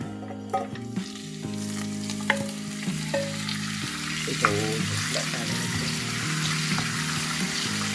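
Beef chunks sear in olive oil in a heavy Le Creuset pan, a dense continuous sizzle with sharp spits and crackles as pieces land and settle, under a steady low hum, close by and without speech.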